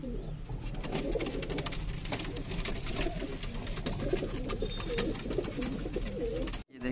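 Pigeons coo steadily in low, throaty murmurs, several birds overlapping continuously against a busy background hum, ending with a brief break.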